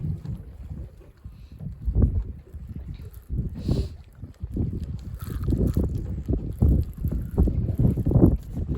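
Gusty wind at sea buffets the microphone in low, uneven rumbling bursts, with faint water and boat sounds underneath.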